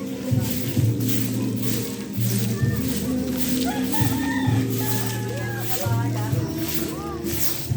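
A rooster crows repeatedly, several drawn-out calls rising over steady background noise and ongoing chatter, fairly close.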